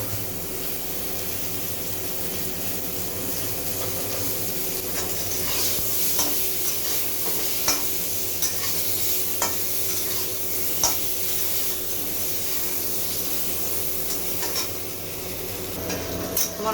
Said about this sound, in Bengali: আলুগুলো আমি একটু লাল করে ভেজে নেব,